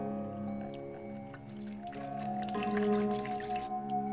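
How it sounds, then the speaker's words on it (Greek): Water poured and dripping out of a bucket holding beeswax during wax cleaning, a light trickle and patter under steady tonal background hum, getting a little busier toward the middle. "Θα αδειάσουμε το νεράκι που έχει μέσα."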